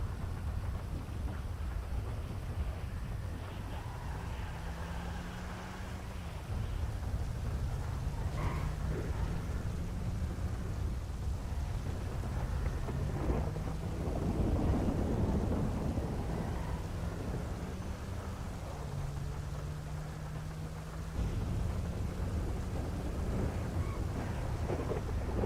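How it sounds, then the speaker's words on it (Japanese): Thunder rolls over a rainy city in the game FiveM, with long low rumbles building and fading over a steady wash of rain. "いや雷の音が相変わらずすごいなこの街。"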